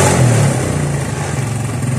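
Suzuki Smash 115 motorcycle engine running just after starting, a steady loud mid-pitched drone with a slight rev swell near the start, close by and alone without talk.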